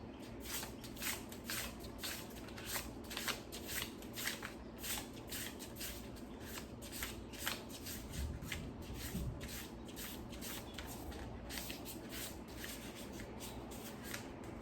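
Tarot cards being laid out one by one for a pick-a-card reading, a steady run of soft close shuffles, slides and light slaps of card on card continuing throughout with no one speaking.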